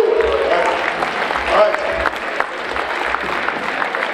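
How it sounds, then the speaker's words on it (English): Audience at a high school holiday band and choir concert giving a round of applause, a continuous wash of clapping from a hall full of people with a few voices mixed in. "Let's give an extra round of applause to Ann Meyer for entertainment purposes."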